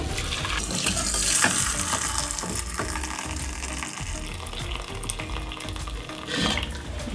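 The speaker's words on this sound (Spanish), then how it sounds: "Voy a poner un colador y voy a separar el caldo de las verduras." Beef broth for spicy Korean yukgaejang pours through a strainer into a pot with a steady, close splashing trickle. Light clinks and stirring sounds run through it.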